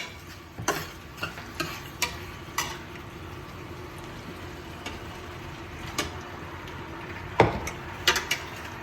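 Pasta being stirred in a pan with hot sauce, a soft sizzle under a series of scraping, tapping utensil strokes against the pan, some louder clacks toward the end.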